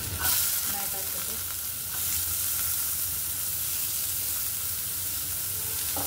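Onion and capsicum (shimla mirch) frying in a pan as a Marathi-style vegetable dish, a dense, even sizzle with a few soft stirring scrapes near the start, close and steady, no voices.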